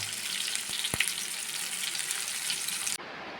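Steady oil sizzle of mackerel frying in a pan, with a couple of brief clinks, then the sizzle drops abruptly to a quieter hiss.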